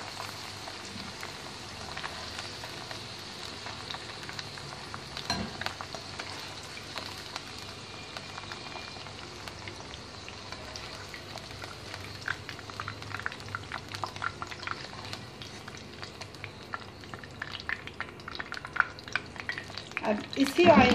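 Okra (ladyfinger) fries in oil until light golden, giving a soft, steady sizzle with occasional scraping and stirring clicks that grow a little busier toward the end.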